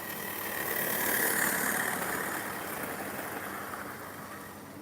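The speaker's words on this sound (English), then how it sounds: "Why is the LMS one going around so fast?" Hornby LMS model train running fast around the track, giving a steady, dense mechanical rumble and whirr that holds level throughout, with no talking.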